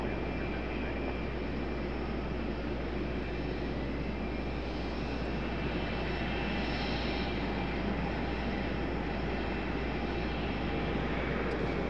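A steady, loud jet roar of an airliner on runway 5 left at RDU airport, a continuous broadband rumble with no distinct peaks, heard from a nearby spotting position for about twelve seconds.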